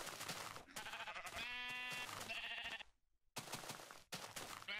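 Bleats from a sheep in early Minecraft come in short bursts, loud and close. They are broken by a brief silence midway, then the game noise returns with no speech.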